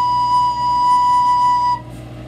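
A recorder sounds a single steady, pure C held for almost two seconds, then stops, leaving faint room noise.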